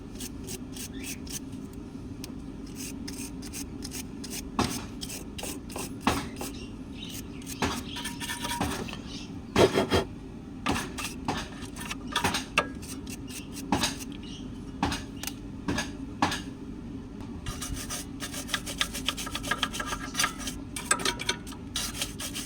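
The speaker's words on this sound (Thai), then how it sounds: "มาทำความสะอาดโดยจะใช้แปรงขนอ่อนตัวนี้ครับ นี่ขนประมาณนี้ นะ ขัดเข้าไปเลย" A soft-bristle brush scrubs a Honda ABS sensor at the wheel hub, giving a close, continuous rubbing and scratching sound with quick strokes and occasional louder scrapes.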